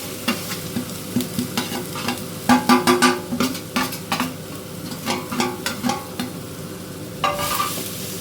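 Grated carrot frying in ghee, a bright sizzle under a quick run of rhythmic spatula clicks and scrapes against the pan, close and fairly loud, with no speech.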